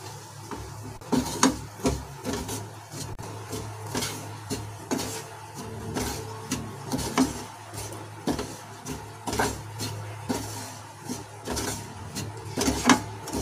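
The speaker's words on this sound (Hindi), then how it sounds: "अब मैं बचे हुए घी में ये धनिया डाल दूंगी और इसे भी भून लूंगी अच्छे से मैं धनिया को।" Coriander roasting in leftover ghee over a slow flame, with a soft crackle under repeated scraping and stirring strokes of a spoon in the pan, close and rhythmic.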